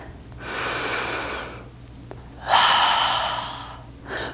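Deep yoga breaths taken during a flowing practice: a long, airy exhale, a pause, then a stronger, rushing breath with a faint final intake, close and without talk.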